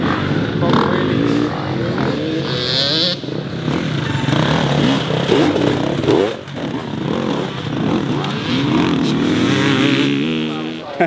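Enduro motorcycle engine revving loudly at a club event near Sible Hedingham, with bursts of throttle as riders pop wheelies, under continuous nearby talk and general background noise.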